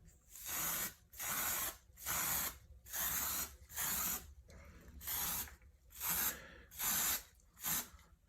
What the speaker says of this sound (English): now I'm going to go around it and just very lightly spray